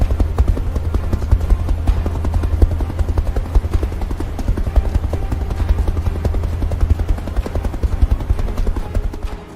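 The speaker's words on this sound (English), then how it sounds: "This was followed by helicopter surveillance." Helicopter flying over open country on surveillance, its rotor beating in a loud, rapid, steady chop that stays close throughout.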